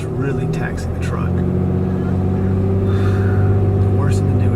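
A truck towing an RV trailer holds a loud, strained engine drone that rises steadily in pitch and intensity, with a person talking over the rumble.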